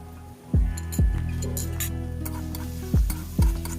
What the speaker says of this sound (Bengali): পেঁয়াজ, আদা, রসুন বাটাটাকে ভালো করে কষতে থাকবো। 1 মিনিট পর দিয়ে দেবো লঙ্কার গুঁড়ো, হলুদের গুঁড়ো